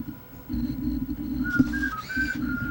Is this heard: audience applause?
no